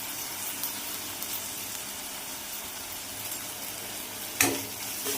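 Masoor lentils hit hot fried spices in a pan, giving a steady, even sizzling hiss that stays fairly quiet, broken near the end by one sharp clink.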